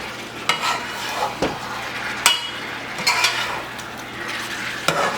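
Spanish-style beef stew, carne guisada, being stirred in a pot, with a soft sizzle underneath and several sharp scrapes and clinks of a utensil against the pot at irregular intervals.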